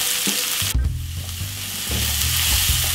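Steady, close sizzling of pasta and corned beef frying in a pan, with a few soft clinks and stirring sounds underneath.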